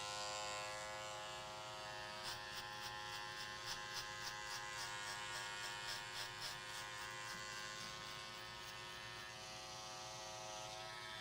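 Cordless Andis Masters hair clippers cutting hair give a steady close electric buzz with a light rhythmic rattle of strokes in the middle, running alone without talk.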